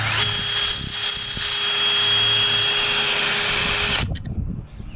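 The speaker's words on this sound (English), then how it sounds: "So we're just reaming the holes out a little bit." A power drill reams out rivet holes in a tail light panel for a 389 custom Peterbilt, a loud steady whine running for about four seconds before cutting off, followed by faint handling noises.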